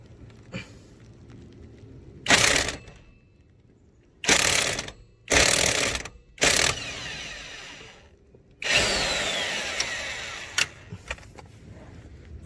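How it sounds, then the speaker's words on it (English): Loud bursts from an impact wrench with a 19mm socket hammer at a rear strut bolt on a 2001 Lexus ES300, several short rattling blasts followed by a longer sustained run, close up in a garage. "I'm using an impact on one end with a 19mm and a wrench on the other end, 19mm"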